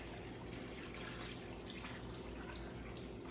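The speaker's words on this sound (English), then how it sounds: "I'm gonna pour some water." Water pours steadily into a cooking pot, a continuous faint splashing and trickling wash with no talk over it.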